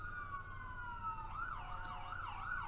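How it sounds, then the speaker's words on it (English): A siren wails steadily, then shifts into a rising and falling yelp over low background rumble, moderately distant and continuous. "you're hearing sirens go off, which is unfortunately very frequent here"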